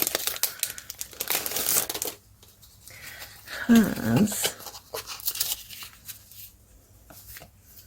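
Collage paper being handled for a typewriter-themed letters art project, giving dry crinkling and rustling bursts near the start and middle with quieter handling between, and no talk.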